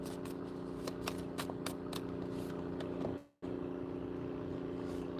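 Rapid riffling clicks of cards being shuffled over a steady background hum, with a brief dropout partway through.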